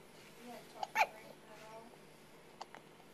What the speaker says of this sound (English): Got the hiccups?